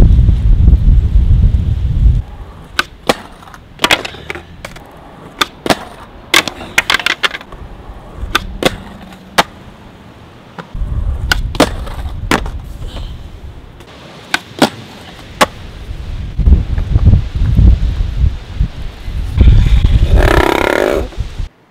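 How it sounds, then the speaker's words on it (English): Gusty wind rumbles against the microphone in bursts, broken by sharp clicking knocks and brief lulls. "It's just too windy."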